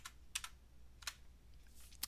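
Keystrokes tapped on a computer keyboard while entering balances into a budgeting screen in Acumatica ERP software: a few sparse, quiet clicks, including a quick pair, over faint background hum.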